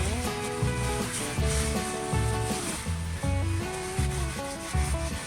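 Brisk back-and-forth scrubbing of caked soot and oil grime under a 2005 Ford Mustang GT, rhythmic rasping strokes in repeated bursts, close and loud with no voices.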